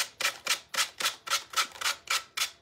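Wood sanded by hand with 120-grit sandpaper, about ten rhythmic back-and-forth rasping strokes in quick even succession, close and clear with no talking.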